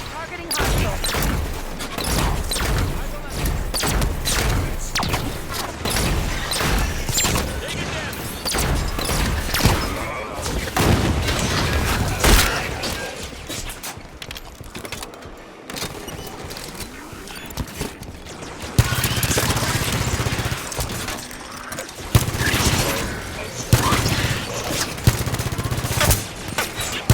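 Halo 5 combat against Prometheans on Heroic, with dense rapid gunfire bursts and impacts going on throughout, loud and close, while voices call out between the volleys.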